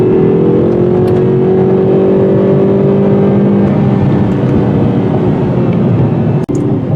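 A 2019 Hyundai Veloster N Turbo on Pirelli tires drives down the road in sport mode, with a loud, steady engine drone and road roar heard from inside the car, continuing without a break.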